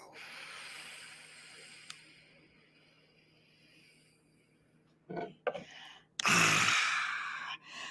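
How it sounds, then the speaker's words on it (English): A person takes a slow, deep breath in and then lets it out, close and soft, with a brief quieter breath before the long exhale and otherwise near silence. "Inhale. And exhale."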